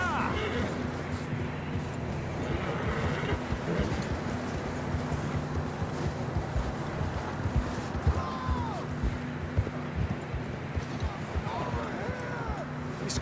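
Horses gallop in Red Dead Redemption 2, a rapid steady drumming of hooves over rough ground with game music and scattered ambient calls underneath, continuing throughout at moderate loudness.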